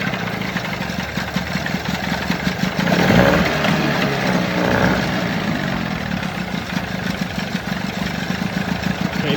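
The outboard motor on a jon boat runs after a jump start with a steady, loud, close rumble. The engine swells briefly in the middle, then settles back to an even drone.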